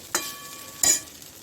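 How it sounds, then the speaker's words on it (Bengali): Nigella seeds and a dried chili dropped into hot oil for tempering: two sharp bursts of sizzling about a second apart, each fading quickly into a faint, steady crackle. "এই যে কালো জিরা ফোড়ন দিচ্ছি আর দিচ্ছি একটা শুকনো লঙ্কা"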